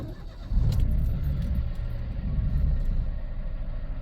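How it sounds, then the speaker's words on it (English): A Peugeot 107 with a semi-automatic gearbox fault turns over and catches after a brief quiet moment, then settles into a low, steady idle close by. "Start the engine."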